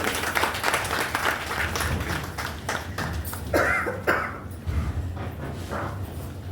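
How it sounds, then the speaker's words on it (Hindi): An audience at an Inner Wheel Club installation ceremony claps for a woman called forward, with irregular bursts of applause mixed with coughs and murmuring, loud and close amid room noise. "तालियां बजनी चाहिए"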